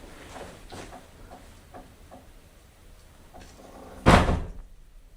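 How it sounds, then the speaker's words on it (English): Quiet room tone with a few faint taps, then one sharp, fairly loud thud near the end as a door down a hallway is pushed open quickly, fading quickly. "Everyone heard and saw that door down the hall to the right get pushed open real quick"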